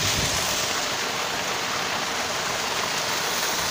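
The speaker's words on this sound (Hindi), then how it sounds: "नेचुरल वाटर एकदम बह रहा है" Cold natural stream water rushes outdoors in a continuous, loud broadband hiss without pause, no voices over it.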